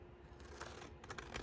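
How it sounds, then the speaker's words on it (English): Scissors cutting down a piece of paper for a collage scrapbook page: a few soft, quick snips over a quiet background, close and fairly faint. "and I'm going to cut it down."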